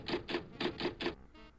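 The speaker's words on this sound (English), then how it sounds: "Let's use the envelope with the typewriter. Okay, I'll type the publisher's address." A typewriter in Maniac Mansion Deluxe clacks out five evenly spaced keystrokes, each a crisp mechanical strike, followed by a brief softer ratcheting sound; close and quiet, no talking.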